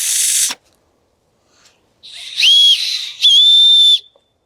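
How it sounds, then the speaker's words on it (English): A cheap Harbor Freight survival-kit spork spoon whistle gives two shrill, piercing blasts, each about half a second to a second long, loud and close, after a short airy hiss at the start. "Next thing we got is a spork spoon whistle."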